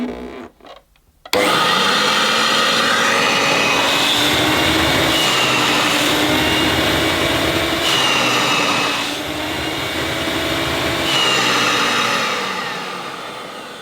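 A 1977 Hoover Starlight U2002 vacuum cleaner, running with its motor hood removed, switches on after a brief quiet moment and holds a loud, steady motor roar and whine that dips slightly near the end.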